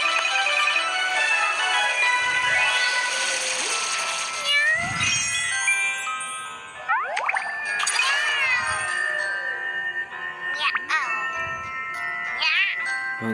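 Cartoon kitten meows from a children's pet-care game featuring an orange baby cat, several short bright mewing calls over a busy, continuous game music bed with chiming tones.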